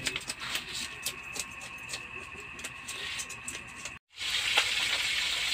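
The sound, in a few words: squid frying in a pan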